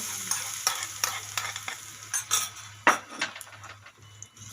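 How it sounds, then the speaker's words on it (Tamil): Hot tempering for rava masala idli batter being added and stirred in, giving sizzling, frying crackle with scraping and clinks of a spoon against a metal vessel, close and fairly loud, with no talk. "இப்போ இதில் இந்த தாளித்து வச்சதையும் கொட்டிக்கலாங்க"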